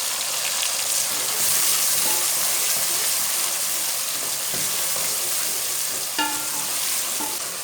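Chopped tomatoes and green chillies fry in a pan with onion and garlic, a steady broad sizzle with stirring scrapes throughout and a brief clink near the end, no voices.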